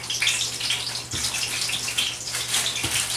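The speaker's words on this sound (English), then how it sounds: "So I'm going to drop our tortillas in." Tortillas dropped into hot oil hiss and sizzle steadily, a bright crackling wash with a couple of soft splashes as they go in, close and fairly loud.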